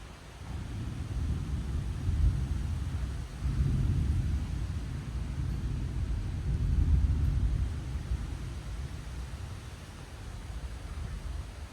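Low, broad rumble of thunder during an afternoon thunderstorm with fairly high winds, swelling and fading in long rolling waves beneath steady wind noise, no talking.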